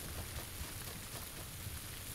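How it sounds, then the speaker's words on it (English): Steady rain falls in the battle royale game PUBG, a soft, even hiss with faint low patter that holds at a constant quiet level throughout. "The rain is actually really cool."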